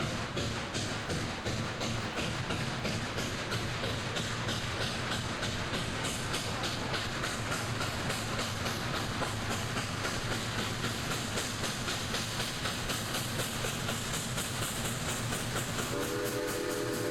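A steam engine train runs on a Colorado railroad, its loud, continuous mechanical chugging and rail clatter filling the scene, with sustained whistle tones sounding over the steady rumble throughout.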